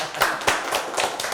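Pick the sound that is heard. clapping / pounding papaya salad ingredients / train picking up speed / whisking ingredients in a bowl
clapping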